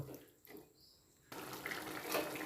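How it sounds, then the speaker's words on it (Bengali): Water poured into a pot of simmering drumstick and potato, a brief trickle followed by a louder, rushing splash that continues to the end. "এবার পেস্ট করেছিলাম সেইটা জলটা এর মধ্যে দিয়ে দেবো আরও একটু জল দেবো আর একটু জল দেবো"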